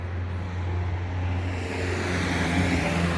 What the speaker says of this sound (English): Let this car pass.